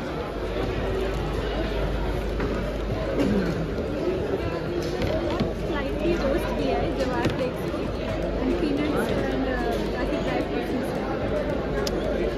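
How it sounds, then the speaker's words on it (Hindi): Dense crowd chatter fills a busy trade expo hall in Uttar Pradesh, a steady loud babble of many voices with footsteps and scattered clatter, continuous without pauses. "भीड़ भी अच्छी खासी हो रही है।"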